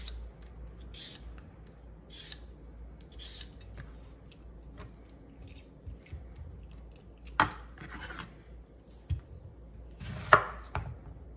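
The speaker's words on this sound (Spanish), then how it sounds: "aquí tengo el pepino. Lo voy a picar." Cucumber being chopped on a board, with a few sharp, scattered knife strikes close by over a quiet background, the heavier cuts bunched near the end.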